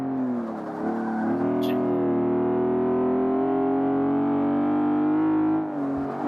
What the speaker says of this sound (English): Oh, here's my car. Yes, that is a Ferrari V8.